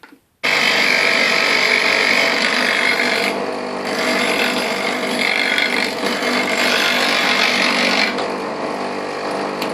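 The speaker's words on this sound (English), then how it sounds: "I will need to just grind off a little bit of the old bit" A bench grinder grinding a woodturning bowl gouge held in a homemade fingernail grinding jig, a loud continuous high whine and hiss with brief shifts in tone as the tool moves, alone and close.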